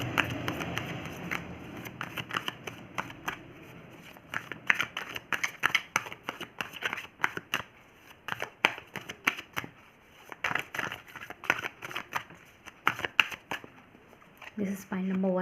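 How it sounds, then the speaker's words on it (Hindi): Tarot cards shuffled and drawn, a dense run of crisp riffling and flicking card sounds, loud and close, with someone talking over it. "पाइल नंबर 1 के लिए कार्ड निकाल लेती हूँ मैं एक बार"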